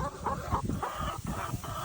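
Laying hen clucking on a Thai backyard farm, a series of repeated rhythmic clucks sounding close, with some background noise and no talk.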